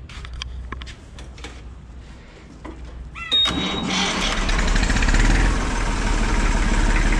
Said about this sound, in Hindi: एक बार ट्रैक्टर स्टार्ट करके दिखाओ जी थोड़ा सा